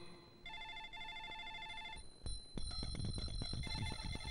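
A telephone rings in a police station scene, repeated bursts of bright electronic trill, then a clatter and rustling as the call is picked up.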